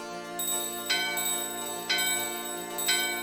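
A bell door in Final Fantasy IX rings out in bright, sustained metallic tones, struck about four times at a steady pace with each ring overlapping the last.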